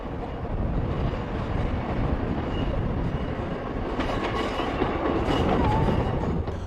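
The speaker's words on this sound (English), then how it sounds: "A single carriage, somewhat dwarfed by its surroundings, provides more than adequate accommodation for the few passengers travelling between Barrow and Whitehaven" A single-carriage passenger train runs on the Cumbrian coast line between Barrow and Whitehaven, producing a steady, loud rolling rumble with rhythmic wheel clatter throughout.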